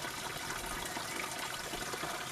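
Water from a spring well runs steadily into a silt-collecting drain on an Irish permaculture site, giving a continuous, close rushing flow with no pauses.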